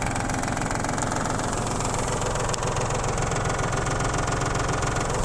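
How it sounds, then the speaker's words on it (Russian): An ISEKI TU275 compact tractor engine idles steadily with a constant, even knocking rumble, while the cover of its 1.6 m rotary tiller rattles throughout, close and moderately loud. "Думаю, слышно, что дребезжала фреза. Крышечка дребезжит."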